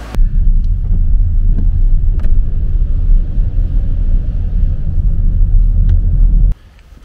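Low, steady rumble of a car pushing through deep flood water on a Scottish street, a continuous churning roar held for about six seconds before it abruptly drops away to near quiet.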